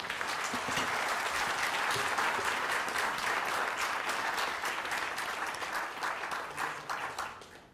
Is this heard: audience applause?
yes